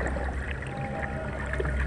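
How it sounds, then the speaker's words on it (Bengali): Wooden boat rowed on a river by a boatman, with soft water lapping and trickling against the hull in a steady close wash, no voices. "একটু পরে মাছি নৌকায় উঠে বাইতে শুরু করে দেয়"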